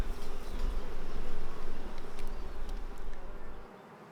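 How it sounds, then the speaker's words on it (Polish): Close, continuous buzzing of honeybees at a hive, a dense droning hum that holds steady, then drops away abruptly near the end. "Tutaj widzimy pszczołę, która próbuje wygryźć się z komórki."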